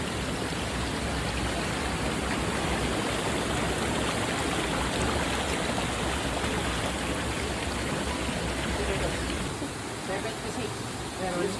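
Water rushing at Kilangin Falls makes a steady, loud broadband roar throughout, with a faint voice briefly under it.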